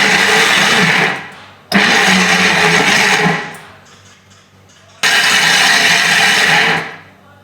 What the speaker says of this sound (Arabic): نطحن كلشي في الخلاط.